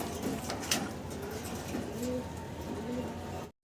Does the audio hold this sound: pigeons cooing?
yes